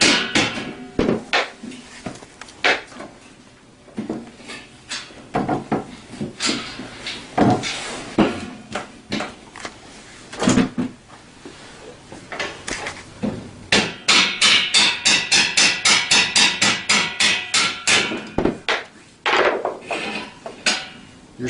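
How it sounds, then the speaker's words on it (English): Rubber mallet tapping on Tao Tao CY50A scooter parts during assembly, sharp knocks at irregular intervals, then a fast run of rhythmic taps near the end, close and loud with no talking. "Use rubber mallets here, but just going to get it started to come out of the spot."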